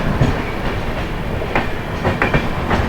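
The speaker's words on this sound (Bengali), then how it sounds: "এখান দিয়ে পাস করছে হচ্ছে ক্রিয়া যোগা এক্সপ্রেস হাতিয়া হাওড়া।" The Kriya Yoga Express from Hatia to Howrah passes close by near Kharagpur, with a loud steady roar of wheels and a clickety-clack rattle.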